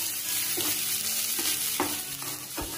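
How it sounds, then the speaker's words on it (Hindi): Finely chopped, seeded small capsicum stir-fries in a pan for an egg and spinach bhurji: a steady, close sizzle punctuated by a few rhythmic spatula scrapes, with no talking. "और हम इसे 1 से 2 मिनट तक चलाएंगे।"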